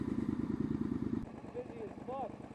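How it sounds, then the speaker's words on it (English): A Ducati Monster motorcycle idles with a loud, throbbing engine rumble for the first half, then a quieter engine continues beneath people talking nearby. "It sounds like a Ducati. And it was a Ducati Monster."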